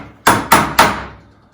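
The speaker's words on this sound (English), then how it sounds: "I'm using a rawhide hammer so that way it doesn't mark or mar up the silver" Three sharp, evenly spaced strikes of a rawhide hammer ring out as it shapes an annealed silver bracelet on a mandrel, each blow close and loud with a short metallic decay.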